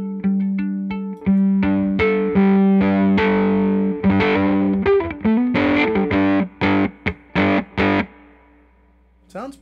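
A violin played through a Bunnel Heavy Metal distortion pedal, distortion fully down with level and tone at noon, gives buzzy, overdriven sustained notes that break into short staccato bursts before fading out alone.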